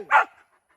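A single short bark from a dog on a wild boar hunt, close and fairly loud, followed by quiet.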